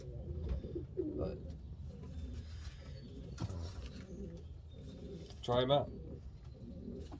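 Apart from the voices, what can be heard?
pigeons cooing in breeding loft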